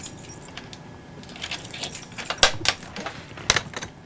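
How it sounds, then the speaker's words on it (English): Keys jangle in a ship's berthing area aboard the USS Nimitz, a few sharp metallic rattling bursts close by against a low background hum, with no talking. "let me get my keys so you guys can see this"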